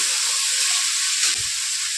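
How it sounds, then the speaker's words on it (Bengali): Vegetables frying one by one in a pan with a little salt, a close, loud, steady sizzle with a brief soft stir near the end. "আর একটু নুন দিয়ে সবজিগুলো এক এক করে ভেজে নিচ্ছি"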